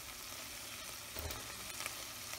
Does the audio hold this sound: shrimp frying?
yes